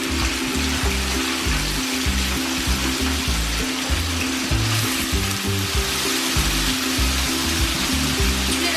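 Cut potatoes, chopped garlic and a fried red chilli sizzle loudly and continuously in a hot pan, a dense steady frying hiss with no talking.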